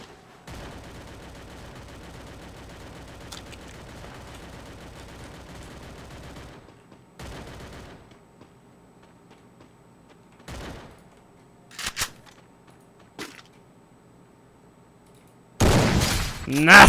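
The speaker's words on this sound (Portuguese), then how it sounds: "Tomando tiro e eu não faço ideia da onde" Bursts of video game gunfire in Free Fire, a sustained rattle early on then scattered sharp shots, ending in a loud close volley.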